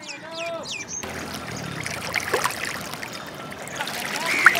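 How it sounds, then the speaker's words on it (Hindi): Buffaloes bathing in a cold rural canal in Pakistan, water sloshing and splashing continuously with a brief bird call, close by and steady after a short opening. "भैंसों की मौजें लगी हुई हैं और ठंडे पानी के अंदर नहा रही हैं"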